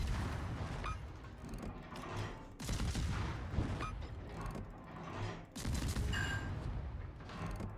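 Gunfire from a Tier IX American destroyer, the USS Fletcher, in World of Warships, heard as dense, loud rumbling salvos that surge in several waves with brief dips between them.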